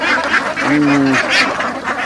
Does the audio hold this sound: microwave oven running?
no